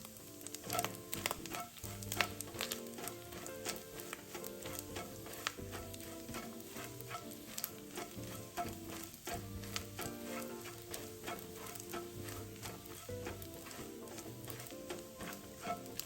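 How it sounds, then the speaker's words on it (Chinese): Chopped dried shrimp frying slowly over low heat in a spoonful of fried-scallion oil, a quiet crackle with tiny scattered pops running steadily beneath soft tonal background music. "炉开文火，将剁碎后的虾米慢慢爆香。"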